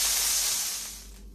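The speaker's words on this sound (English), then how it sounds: "I threw the meat in there and then it got very loud. It was sizzling." Ground beef sizzles in a hot pan, a loud steady hiss of frying meat that gradually quietens over a second or so, with no talk.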